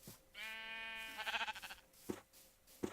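In the Minecraft video game, a sheep gives one wavering bleat, then another shorter bleat. Faint thumps follow in a quiet game scene.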